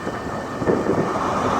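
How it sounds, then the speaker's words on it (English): A Great Western Railway train hauled by class 43 locomotives departs Reading station, a loud, dense, low rumble of diesel engines and rolling stock over a short stretch. "the departing now is going to be 43185 and 43165"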